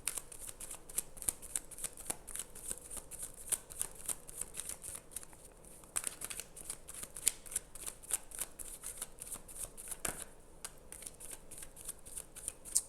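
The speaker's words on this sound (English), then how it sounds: "when I'm shuffling this deck for myself" A deck of tarot cards gets shuffled over and over, a soft, close, continuous riffle of flicking and rustling card edges with brief pauses between passes, heard alone without talk.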